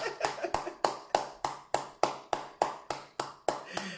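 A church congregation claps in steady rhythm to acclaim the Lord, about twelve loud, evenly spaced claps over four seconds.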